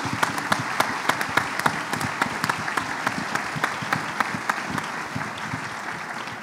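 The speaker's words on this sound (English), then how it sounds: "And I think it's the moment now we give an applause to Brenda for all the work she's doing." Audience at an ILA18 keynote panel discussion breaks into steady applause, dense overlapping claps with sharp individual hand strikes standing out, fairly close and sustained throughout with no talking.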